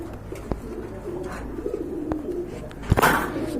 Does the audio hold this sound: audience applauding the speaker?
no